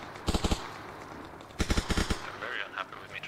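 Automatic gunfire in the military shooter game Arma Reforger comes in two rapid bursts of several close, punchy shots separated by a pause, with game ambience and a voice speaking afterward.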